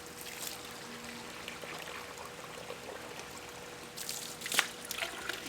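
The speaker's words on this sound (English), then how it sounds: "We're going to spray some water inside of the bag." Water sprayed into a plastic bag holding nematode gel, a faint steady hiss of spray with a few louder crinkling bursts near the end.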